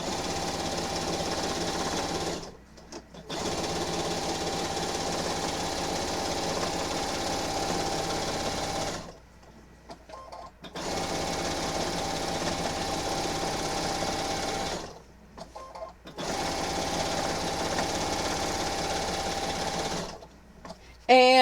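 A sewing machine stitches a quilt in long, steady, close runs of rapid mechanical whirring, stopping briefly three times before starting again, with no talking.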